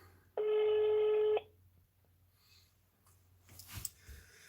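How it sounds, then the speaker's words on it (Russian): A telephone dials a number for a call: a single steady tone sounds loudly for about a second, followed by quiet room noise, faint breathing and a brief rustle. "Звоним. Надеюсь, правильный набран."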